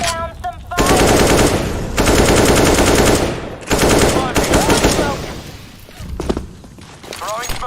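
Sustained rapid automatic gunfire from a CS:GO match, loud and close, in long bursts broken by brief pauses, with shorter volleys and impacts near the end and voices calling out between shots.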